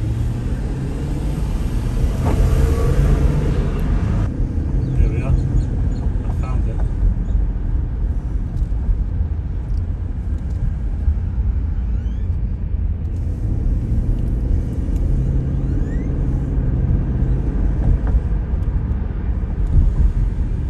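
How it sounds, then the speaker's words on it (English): A Dodge Durango SUV drives through an airport road area, its steady low engine and tyre rumble continuing for the full stretch at moderate loudness, with brief talking early on. "Dodge Durango, by the way. Yeah, a Dodge Durango, that's what this car is."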